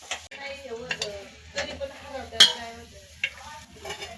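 Onion dry roasts in a pan without oil, giving soft intermittent sizzles, scraping stirs and a few light clinks of a utensil against the pan, close and sparse.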